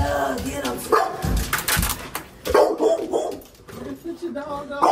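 A dog barks and yips repeatedly inside a house, loud and close, overlapping with people talking and shouting.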